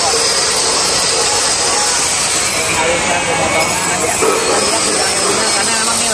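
Loud, constant exhaust factory workshop noise, a dense hissing and rumbling din of machinery that fills the space without letup.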